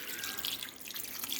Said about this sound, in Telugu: ఇందులో వాటర్ వేసుకుని